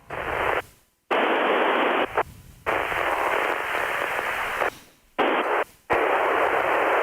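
Amateur radio transmissions overlapping during an ISS satellite pass, heard as loud bursts of harsh radio static and hiss that cut in and out abruptly several times, with short silent gaps between keyed transmissions.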